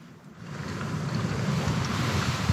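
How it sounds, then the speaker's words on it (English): Strong wind from a storm roars and buffets steadily around a small parked car, building in loudness, with no voices. "God, that is windy out there."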